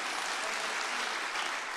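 Church audience clapping, a steady, even wash of many hands held at a moderate level for a brief stretch with no voices over it.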